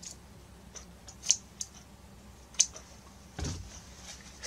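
Scissors snip through fabric at the corners of a sewn seam, a few quiet, separate cuts with soft rustling in between.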